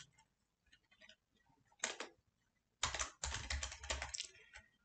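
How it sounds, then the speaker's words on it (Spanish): Typing on a computer keyboard while entering a label name in document-analysis software: a few faint taps, then two louder bursts of rapid keystrokes separated by short pauses, close and alone. "aquí lo que podemos em, teclear es el nombre de la etiqueta"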